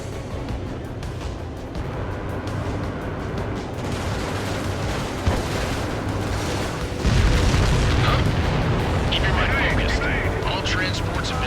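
Deep booming explosions of destroyed transports in Ace Combat 7 rumble under steady jet engine roar, with a heavier blast partway through and continuing crackle after.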